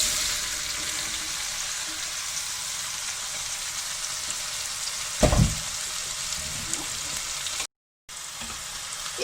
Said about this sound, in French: Et je les laisse frire.